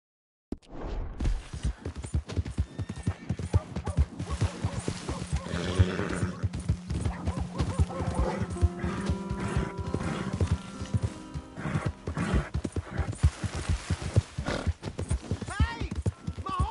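In Red Dead Redemption 2, a horse's hooves clip-clop in a busy, continuous patter, close and loud, with a whinny rising from the hoofbeats partway through.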